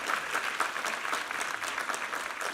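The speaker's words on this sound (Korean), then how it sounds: "우리 하나님께 감사와 영광의 박수 올려드리겠습니다." A church congregation claps together during a Korean Sunday worship service, giving thanks to God; steady, moderately loud applause from a roomful of people, continuous with no voices over it.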